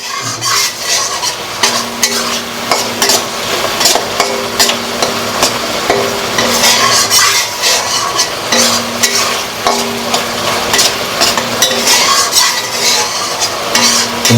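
Spice paste for mung dal with rohu fish head sizzles steadily in hot oil while a spoon scrapes and stirs it in rhythmic strokes, loud and close with no talking.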